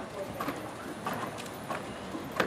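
Horse cantering in a dressage riding lesson, hooves beating a steady rhythmic clip-clop across the arena at moderate distance, with an instructor's voice faintly in the background.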